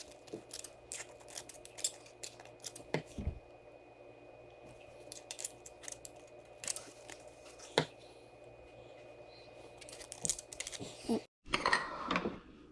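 Sharp scissor snips cutting aluminum from an Arizona Iced Tea can to trim it flat for an alcohol stove, with scattered quiet clicks over a low background hum and a louder rustling burst near the end, close-up and without speech.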